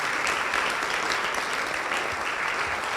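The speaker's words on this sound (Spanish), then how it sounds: "Le da ese aplauso, Señor" Church congregation gives steady, loud applause during a Sunday service, a dense wash of clapping filling the whole three seconds without a break.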